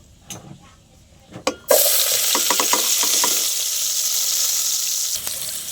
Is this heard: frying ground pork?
yes